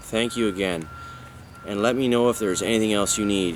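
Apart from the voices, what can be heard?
construction vehicle reversing beeps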